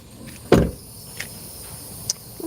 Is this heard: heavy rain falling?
no